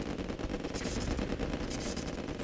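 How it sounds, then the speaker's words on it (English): Tanya fires her pistols in the Red Alert video game with rapid overlapping gunfire crackling in dense bursts throughout, loud and close against game effects. "So she's a bit of a maniac with these pistols."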